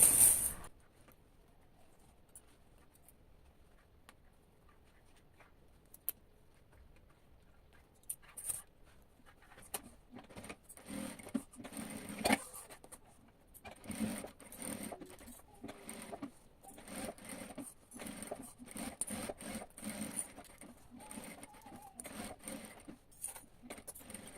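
A sewing machine runs a safety seam around fabric, starting with a brief knock and then settling into bursts of rapid, fairly faint mechanical stitching with short pauses between runs.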